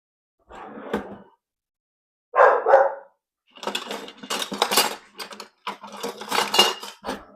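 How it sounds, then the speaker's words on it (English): A dog barks in several bursts in a home kitchen while rice and salad are being served, the barks loud and near, mixed with clattering dishes and cutlery, then a rapid run of closer barks. "And I hear my adorable grand dog."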